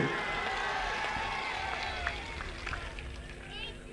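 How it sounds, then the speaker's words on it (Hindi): A crowd at an outdoor political rally claps for candidate Shivram Kannauj, a steady wash of applause and murmur heard from a distance under an amplified speaker's voice. "जोर से ताली बजाओ शिवराम के लिए।"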